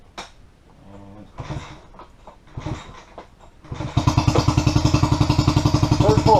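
A small outboard motor on a 12-foot American jon boat is pull-started: a few separate rope pulls and clatters, then the engine catches on the third pull and settles into a loud, fast, regular putter.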